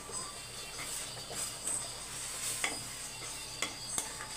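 A tomato rice mixture for Karnataka-style tomato rice is stirred in a pot on low heat, with soft scraping and occasional sharp spoon taps against the metal over a faint sizzle.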